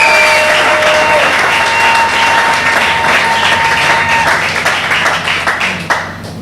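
A church congregation claps and cheers loudly in praise, a dense sustained wave of applause with scattered shouts, tapering off near the end.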